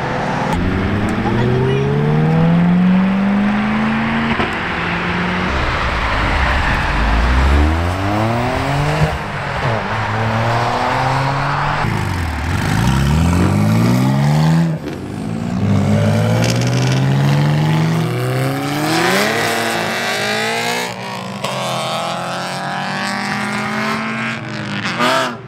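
Supercars and street cars rev hard and accelerate away from an exotic car show, loud engine notes rising and falling as several vehicles pass close by one after another, with people talking throughout.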